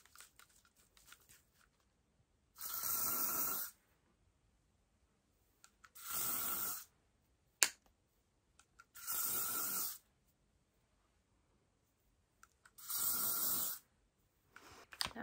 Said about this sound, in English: I'm going to add a little bit of hairspray just to hold those roots